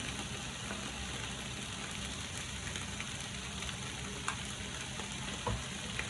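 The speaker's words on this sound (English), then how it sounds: "I'm going to throw in some chickpeas to give us some protein." Chickpeas frying in a pan alongside home fries give off a soft, even sizzle with faint crackles and a couple of small knocks, quiet and steady with no voices.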